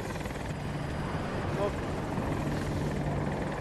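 An AH-64 Apache attack helicopter in a video game drones with a continuous rotor roar, steady and loud throughout, with faint voices mixed underneath.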